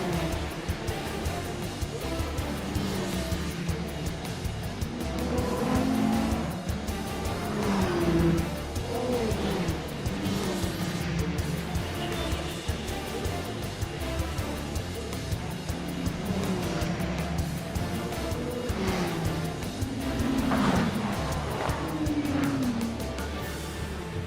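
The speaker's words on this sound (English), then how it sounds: "the Peugeots race out to an early lead, which increases by the lap" Peugeot race cars at the Le Mans 24-hour race give a continuous, loud engine roar, with rising and falling engine pitches as cars pass.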